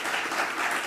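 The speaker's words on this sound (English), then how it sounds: "So if we could please provide Officer Cortines a round of applause" Applause from the audience at a city council meeting, a brief, faint burst of steady clapping heard alone.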